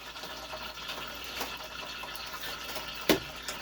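Hot water gushes into a washing machine tub in a steady, fairly quiet rush, with a brief clunk partway through.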